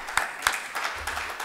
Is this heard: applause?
yes